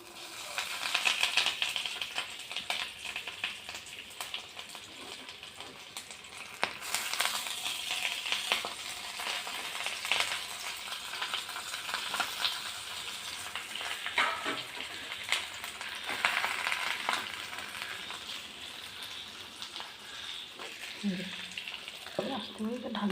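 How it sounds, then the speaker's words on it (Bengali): Hilsa fish paturi parcels sizzling in a hot pan, a steady broad crackle of frying with occasional rattles and clinks, close and moderately loud, with faint talking at times. "এবার আস্তে আস্তে পাতুরিগুলো ওর মধ্যে দিয়ে দেবো।"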